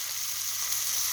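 Steak sizzling steadily in a hot pan for a Philly cheese steak, a close, continuous bright frying hiss with no talking.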